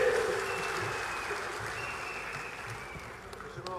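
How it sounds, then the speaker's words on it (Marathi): An audience at a political gathering welcoming new party members claps as a dense, faint, distant wash of applause, steady throughout. "एकदा जोरदार टाळी झाली पाहिजे"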